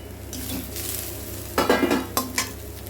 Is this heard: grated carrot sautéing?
yes